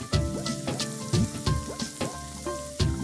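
Chopped garlic and green chilli fry in olive oil in a pan, a crackling sizzle in repeated bursts with stirring, set against a steady run of pitched, music-like tones.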